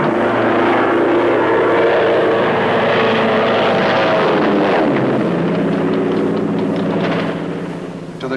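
Propeller airplanes flying through narrow mountain airspace alongside fighter bombers during the secret war in Laos, a loud steady engine drone with wind rush that holds throughout, then eases off slightly near the end.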